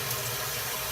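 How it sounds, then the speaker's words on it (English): Tap water runs steadily over shrimp being rinsed in a kitchen sink, a close, constant broadband splash with no talking. "I'm just holding the shrimp down and rinsing it."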